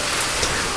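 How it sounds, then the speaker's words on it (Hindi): Heavy rain pours down on tin roofing in a dense, loud, steady hiss with no pauses. "बाप रे इतनी भयंकर बारिश हो रही ना"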